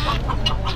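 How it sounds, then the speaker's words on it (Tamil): Silkie hens cluck close by on a farm in the Yelagiri Hills, a short run of soft, choppy clucks over a low background hum. "இது எல்லாமே சில்கி கோழியாண்ணா?"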